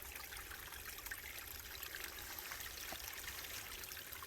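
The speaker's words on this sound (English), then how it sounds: "Pretty little creek running right beside the trail." Steady water flows and trickles over rocks, a constant gentle babble of a small creek beside a hiking trail, no voices, close and even throughout.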